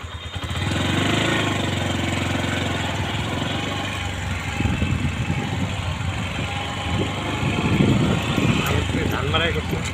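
A paddy threshing machine runs on a farm by the Padma riverbank, a steady droning engine with rattling, irregular thumps as rice is threshed, heard at moderate distance under occasional voices.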